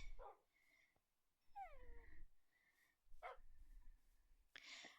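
A puppy in a modded Minecraft game gives a few short, high yips and whimpers, spaced apart and fairly quiet, alongside other scattered game sounds, with no talk.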